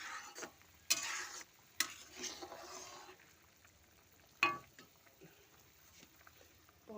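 Fried fish pieces going into a pot of boiling spiced water for a Bengali fish curry, heard as a few sharp splashes and clatters at intervals over a faint, quiet bubbling background.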